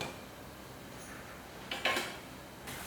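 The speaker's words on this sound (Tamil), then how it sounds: "இப்போ தட்டை மூடி வச்சுருவோம்" A plate is set as a lid over a simmering pot of anchovy fish curry with mango, giving a brief, faint clatter of two quick clinks against a quiet background.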